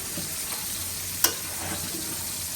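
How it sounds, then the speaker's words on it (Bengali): Fish frying in a pan gives a steady, moderate sizzle, with one sharp utensil tap partway through, no talking. "এদিকে মাছগুলো ভেজে নিচ্ছি সুন্দর করে"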